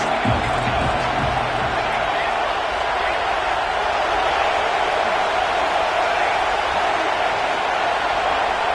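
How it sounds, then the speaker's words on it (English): Football stadium crowd at a USC game roaring in a sustained, dense wash of noise as fans turn up the volume before a play, with a few low thumps near the start and talk faintly mixed in. "this crowd is turning it up a notch"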